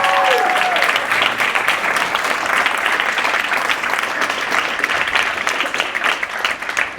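Sustained applause from an audience honoring three student speakers at a school final speeches event, dense and steady clapping throughout with faint voices mixed in.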